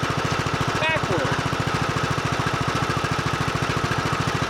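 A motor vehicle's engine runs steadily after the ignition is turned, close and loud, with an even, fast chugging pulse that holds for the whole stretch as the vehicle drives forward and backward.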